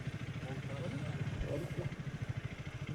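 A motorcycle engine chugs steadily with a regular pulsing throb while being ridden slowly along a narrow, very muddy road made by a landslide in Nepal, close and continuous.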